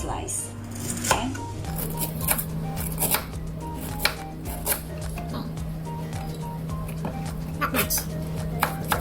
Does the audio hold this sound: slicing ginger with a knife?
yes